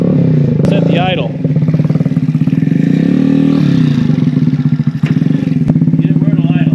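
Small 49cc 139QMB GY6 scooter engine fitted with a 21mm PWK carburetor runs loud and close, a steady buzzing idle that surges and dips as the throttle is worked, with a few sharp clatters.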